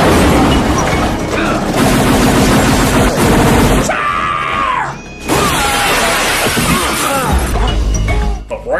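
A grenade explodes in an action film, heard as loud, chaotic booms with shattering debris and gunfire-like cracks, along with screams and some speech in a dense, harsh mix.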